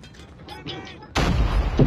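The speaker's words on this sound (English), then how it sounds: "Grenade out." Grenade explosion in the mobile shooter Call of Duty Mobile, during a Search and Destroy match: quiet game ambience, then a sudden loud, booming blast that roars on to the end.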